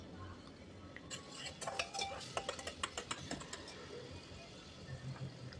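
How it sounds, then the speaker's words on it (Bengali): Tomatoes cooking down with salt in a pan, a utensil clinking and scraping in a quick irregular cluster of taps near the middle, over a soft low background hiss. "এইভাবে আমি নুনটা দিয়েও একটু কিছুক্ষণ কষিয়ে নিচ্ছি টমেটোর সঙ্গে।"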